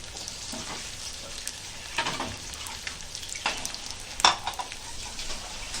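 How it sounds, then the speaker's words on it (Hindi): Spices crackle and sizzle in hot oil for a tempering, a continuous frying hiss punctuated by several sharp pops and spatters. "अभी हम इसको तड़का दे रहे, तड़का तैयार है"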